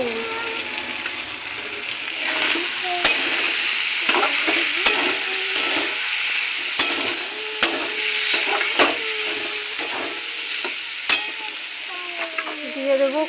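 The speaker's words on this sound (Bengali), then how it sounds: "এটা এবার কষিয়ে নেব।" Fish head with cabbage, peas, spices and a splash of water fries in a wok, giving a steady sizzle broken by repeated scraping stirs of a spatula at close range.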